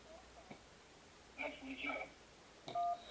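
Telephone touch-tone dialing, a few short electronic beeps in quick succession followed by a longer clear tone, fairly quiet over a low background hiss.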